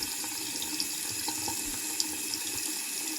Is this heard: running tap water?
yes